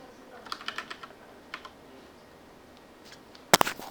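Keys clacking on a computer keyboard as a search keyword is typed, a quick irregular run of close taps followed by a louder burst of keystrokes near the end, no voices.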